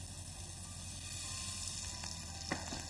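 Butter and oil sizzle in a pan as the base for a béchamel sauce, giving a steady, soft, close frying hiss with a faint stir or clink near the end.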